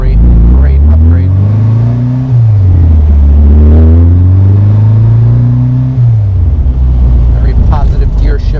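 A 1960 VW Karmann Ghia custom with an upgraded engine drives on the road, a loud, close engine drone rising in pitch and then dropping with each gear change, revving up again, and a voice talking over it.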